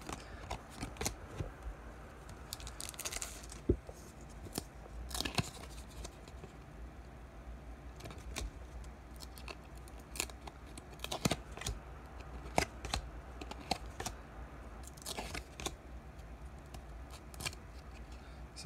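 Merlin trading card packs being peeled and torn apart by hand, giving a run of close, crisp crackling rips and rustles with sharper bursts scattered throughout, no talking.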